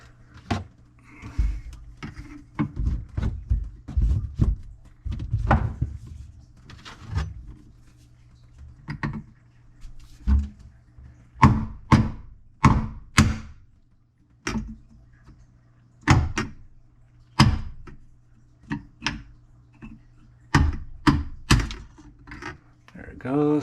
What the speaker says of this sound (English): It's the intake for the disposer, and there's a plug in there, so I have to knock that out.